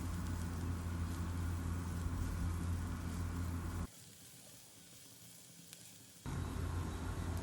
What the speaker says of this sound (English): At this stage we'll add the zucchini pieces, and on medium flame we will stir fry them for about 1 to 2 minutes